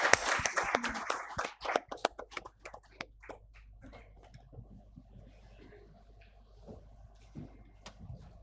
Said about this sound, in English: Can we have a huge round of applause for the winner?